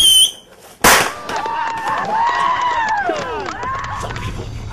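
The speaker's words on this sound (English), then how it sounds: "These are my rocket skates." Comic rocket skates from a horror-film parody fire with a sharp burst, then a long rising and falling whooshing, squealing roar that carries on loudly to the end.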